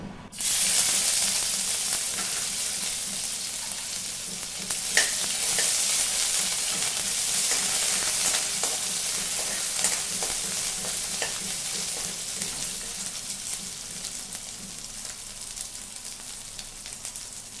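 Ginger, garlic and green chili paste sizzles loudly in hot oil while making a Kabuli chickpea ghugni, a steady broadband frying hiss with occasional stirring scrapes, near and continuous without talk.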